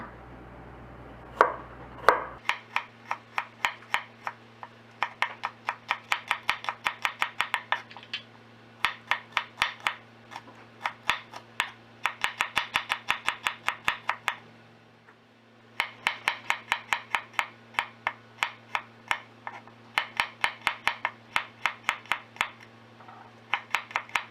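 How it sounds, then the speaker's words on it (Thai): A knife chops shallots, garlic and bird's eye chilies on a board in rapid rhythmic bursts of crisp close taps, with brief pauses between runs and a steady low hum underneath. "ก่อนอื่นเราจะต้องมาซอยหอมแดงกระเทียม แล้วก็พริกขี้หนูทีละอย่างก่อนนะคะ"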